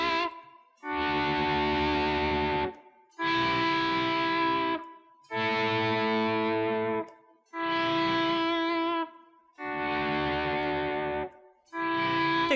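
Distorted electric guitar plays a rhythm, with loud sustained power chords in repeated bursts separated by short gaps, effects-laden and unaccompanied.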